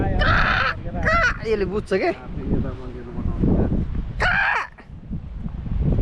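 Crows caw by a lake in Sardinia, Italy, giving a few harsh, rasping calls, one near the start and another later, amid outdoor wind while people talk close to the microphone.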